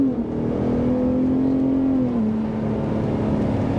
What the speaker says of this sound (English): Definitely we got some rear wheels spinning here, and the sound of it is great.